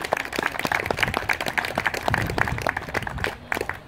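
Applause from a crowd at an outdoor protest against the Dietenbach building project, a dense, steady patter of many hands clapping at moderate level throughout.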